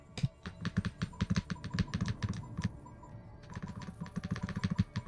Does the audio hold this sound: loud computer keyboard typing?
yes